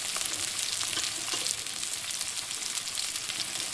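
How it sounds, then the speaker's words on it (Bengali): Chopped onions frying in hot oil for a spicy Lotta fish curry, a dense, continuous crackling sizzle held at a steady level throughout, close and without speech. "গরম করে নিয়েছি নেওয়ার পর আমি এখানে পেঁয়াজ কুচি দিয়ে দেবো"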